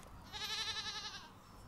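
A goat gives a single wavering, nasal bleat lasting about a second, clear and fairly close, with no talking over it.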